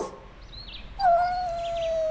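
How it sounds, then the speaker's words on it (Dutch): A dog sound effect in a spoken story, a single drawn-out howl or whine that rises and holds steady for about a second, fairly close and heard on its own. "toen zijn paard plots woest naar een kat begon te blaffen"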